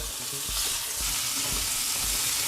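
Meatballs frying in a pan over medium-low heat, a dense, steady sizzle with a few soft thumps and scrapes as they are turned, close and continuous without speech.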